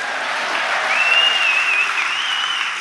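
Audience applause at a live talk event, a steady dense wash of clapping from a crowd that sustains evenly for a few seconds with no speech over it.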